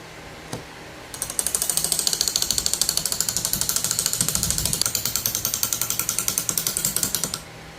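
Sand is rammed into a metal casting mold with rapid, evenly spaced mechanical knocks. After a short quiet start, the knocking runs loud and close for about six seconds, then stops.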